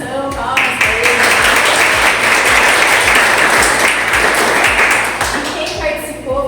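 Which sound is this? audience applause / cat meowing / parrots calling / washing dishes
audience applause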